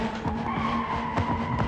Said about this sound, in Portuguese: Cantando pneu de segunda. Cantando pneu de terceira.